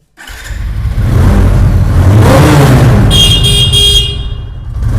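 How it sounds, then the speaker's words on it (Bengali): A cheap used motorbike at a bike showroom is started with the key and revved; the engine catches quickly and holds a loud, steady, close idle-to-rev roar for several seconds before easing. "চাবি লাগানো আছে মানে আমি চালাবো। দেখো স্টার্ট হয় কি দেখো।"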